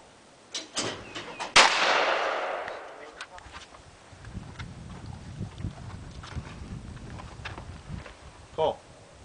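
A shotgun fires at a wobble clay target at Cacapon State Park, West Virginia: one loud, close outdoor blast with a long reverberating tail, followed by quieter rustling and talk, plus a faint shout near the end.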